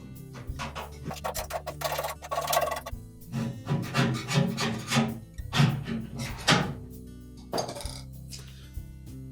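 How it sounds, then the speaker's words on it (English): A thin-bladed putty knife scrapes old seal and adhesive off a Whirlpool dryer blower during a repair, giving uneven close scratching and scraping strokes with small clinks and knocks in irregular bursts. "we'll start with a thin blade putty knife. And we'll remove as much of the old seal and the adhesive as we can."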